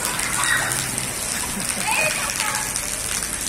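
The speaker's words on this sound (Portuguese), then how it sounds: "Tudo tomando banho de chuva, tá vendo que é babado, ó?" Steady rain pours onto a town street in Xique-Xique, Bahia, with people out in it, a constant close hiss and splatter of water throughout.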